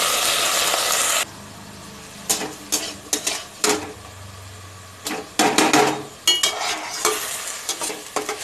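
Washed rice fries in hot ghee with whole spices and bay leaf for Odia kanika pulao. A steady sizzle gives way to repeated scraping stirs of a spoon through the grains in the pan.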